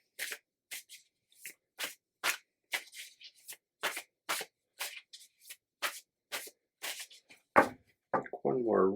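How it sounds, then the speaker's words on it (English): Quick bursts of tarot cards being shuffled repeat in a steady rhythm, close and crisp, ending with a longer riffle and a brief voice. "So I have shuffled my deck."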